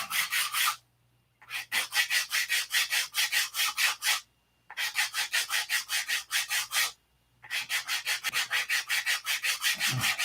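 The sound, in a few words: sanding a wooden wing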